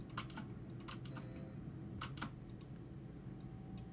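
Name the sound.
computer keyboard click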